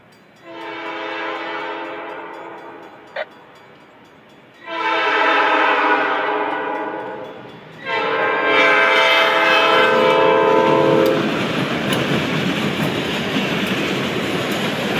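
Norfolk Southern local freight P87 led by a B32-8 diesel locomotive passes close by, its horn sounding in several long blasts with heavy rumbling and wheel noise building as the train goes by.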